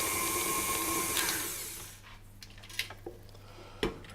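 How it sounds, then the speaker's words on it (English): Cookie dough in a mixing bowl for chocolate shortbread: a motor whirs, then cuts out, followed by a few scattered scraping knocks as a utensil works around the bowl. "I'm going to scrape down the bowl"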